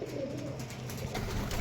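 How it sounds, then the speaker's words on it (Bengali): A white pigeon and a Teddy pigeon pestering each other coo continuously at close range, a thick, low rolling drone of overlapping calls. "এই পায়রা দুটো প্রচণ্ড জ্বালাচ্ছে"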